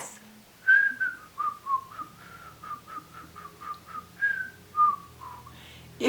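A person whistles a short, wavering tune of about a dozen breathy notes, close and fairly soft, with no talking.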